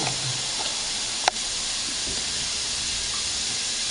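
Veggies and bacon sausage sizzle over high heat, a steady loud hiss that continues throughout with one sharp click partway through.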